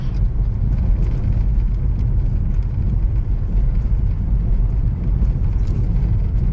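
A Chevy Volt compact plug-in hybrid drives over badly broken-up pavement, giving a loud, continuous low road rumble and tire roar from inside the car, with no talking.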